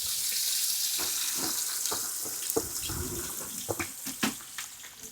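Onions and spices hitting hot oil in a pan: a steady hiss of sizzling throughout, with scattered crackles and pops growing busier toward the end.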